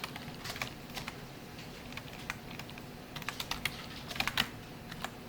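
Typing on a computer keyboard while installing MariaDB in a CentOS 7 Linux terminal: scattered clicky keystrokes, single taps and short quick bursts, close and fairly quiet over a low room hum, no talking.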